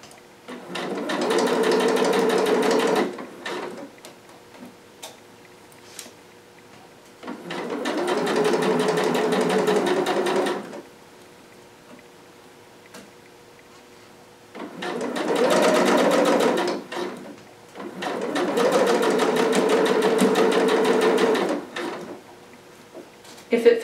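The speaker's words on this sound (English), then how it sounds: "So I need to stitch just a tiny bit more." A sewing machine runs in four separate bursts of steady stitching through fabric, each lasting about two to three seconds with quiet pauses between, close and clear with no talking.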